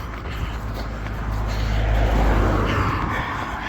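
Another car goes past a marathon runner on a hilly road in the Chelmsford Marathon, a low engine and tyre rumble building to a near peak in the second half before easing, with no voices.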